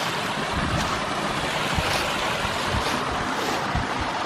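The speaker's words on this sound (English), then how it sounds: "Beautiful lower cascade." The lower cascade of a waterfall in Bankhead National Forest, Alabama, gives a steady, broad rush of falling water, heard up close and filling the clip evenly.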